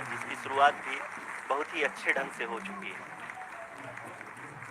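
Applause in a mission control room during a broadcast of India's lunar landing, in the vertical descent phase, heard as a moderate clapping wash beneath an announcer's steady commentary.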